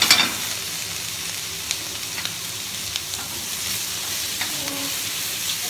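Pea and bacon sautéing in hot oil in a pan for a carbonara, a loud continuous frying hiss close by, with a few light knocks and scrapes as the pan shifts.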